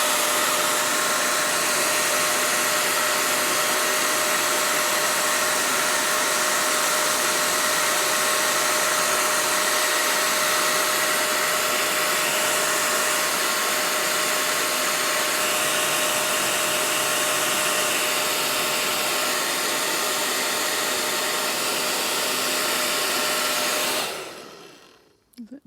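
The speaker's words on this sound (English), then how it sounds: "I'm just going to get my hairdryer and give that a wee blast." A hairdryer blows steadily at close range to dry ink artwork, a loud constant whooshing whir that runs almost without change before abruptly switching off at the end.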